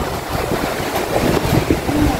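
Sea waves wash ashore at night at Mui Ne in a steady, rough roar. Wind buffets the microphone on top, and there is no clear talking.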